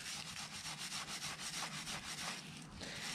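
Old teak boat trim on a Four Winns Marquis 160 is scrubbed by hand with the grain, giving quick, rhythmic back-and-forth rasping strokes, close and fairly soft, repeating steadily.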